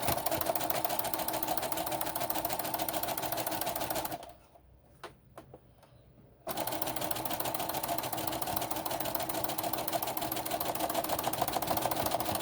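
Sewing machine stitching a cotton face mask, a loud steady rapid whir that runs, stops for about two seconds with a few faint clicks, then resumes and continues to the end.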